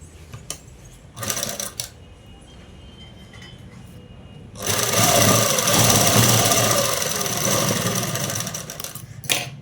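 A sewing machine stitches tucks into a blouse near the shoulder, a long steady whirring run in the second half after short bursts and quiet handling earlier.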